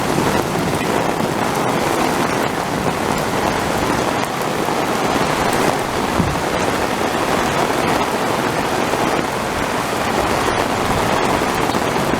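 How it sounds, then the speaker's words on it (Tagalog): Steady, dense rainfall hisses evenly from start to finish, a constant heavy downpour drumming on surfaces with no voices. "Malakas naman ang ulan"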